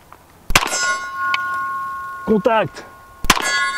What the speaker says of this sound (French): j'ai un gong à une quinzaine de mètres, voilà, 10 tirs derrière un couvert